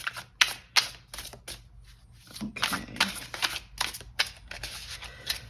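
Cards are shuffled in quick bursts of riffling clatter, the stiff, thick cards snapping and slapping together unevenly, close by with no talking.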